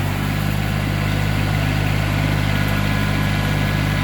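A small three-cylinder tractor engine idles steadily with a low, even chugging throb that holds constant throughout, close by and fairly loud.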